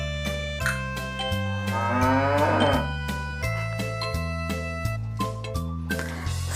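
A cow lets out a long, loud moo, set against a bouncy children's song whose steady tonal notes carry on around the call.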